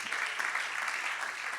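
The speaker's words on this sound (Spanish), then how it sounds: "Denle un fuerte aplauso al Señor." A church congregation claps loudly and continuously during a sermon, a dense wash of applause filling the whole moment.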